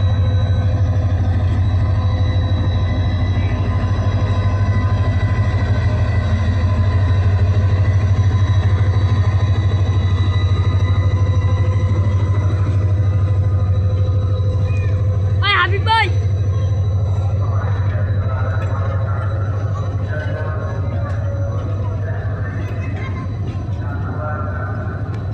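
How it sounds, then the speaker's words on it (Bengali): Diesel locomotive 2928 hauling the Upakul Express to Noakhali rumbles at platform 1 of Kamalapur railway station as it departs. A loud, steady low engine drone runs throughout, with a short clattering burst midway and people talking over it. "নোয়াখালী অভিমুখী উপকূল এক্সপ্রেস ট্রেনটি কমলাপুর রেলওয়ে স্টেশনের 1 নম্বর প্ল্যাটফর্ম থেকে 2928 লোকোমোটিভ নিয়ে ছেড়ে যাচ্ছে।"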